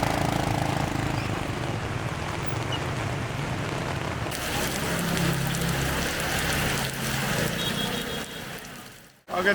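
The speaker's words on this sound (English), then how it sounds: "It's 5 AM and it is torrential rain." Torrential rain pours down at a flower market in Vietnam at 5 AM, a steady, loud, broadband hiss and patter that fills the whole scene without a break and cuts off sharply at the end.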